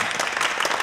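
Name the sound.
small group applauding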